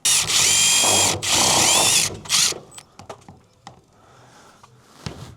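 A power drill drives screws into insulated roof panels during a workshop roof build, two long loud whining bursts with pitch sweeps followed by a shorter one, then scattered clicks and knocks as it falls quiet.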